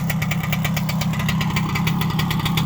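A 1971 Suzuki TC120 motorcycle engine idles close by, with a steady, smoky two-stroke putter and rapid even firing pulses throughout, no voices.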